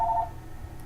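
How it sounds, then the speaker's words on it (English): A phone gives a brief electronic dual-tone beep at the start, then cuts out, leaving a low steady background hum. "Phone."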